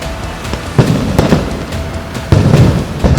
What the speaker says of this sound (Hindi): ऐसा लग रहा है मानो पटाखे फूट रहे हैं, लेकिन असल में पुलिस भीड़ को तितर-बितर करने के लिए आंसू गैस के गोले छोड़ रही थी।